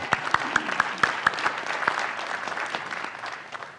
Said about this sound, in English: Let's hear it for Tim. Applause